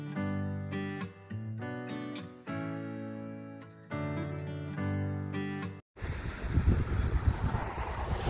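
Sea waves on the beach at Rabat, a broad steady wash of surf and wind rushing in after a stretch of music, loud and continuous with no talking.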